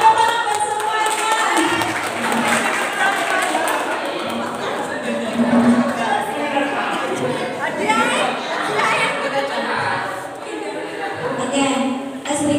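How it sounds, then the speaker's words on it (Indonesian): A room of teachers at a school training session breaks into applause mixed with lively chatter, the clapping dense but partly buried under many overlapping voices. "Oke, tepuk tangan buat semuanya."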